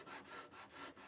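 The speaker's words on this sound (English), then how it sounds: "Now's the time to break out some sanding tools." A small one-inch sanding pad rubs along a Stratocaster's wooden neck in steady back-and-forth strokes, a soft rasping swish close up and fairly quiet, with no talking.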